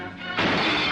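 A head striking an old-fashioned glass windscreen, a single sudden loud crash as the glass shatters, close and alone.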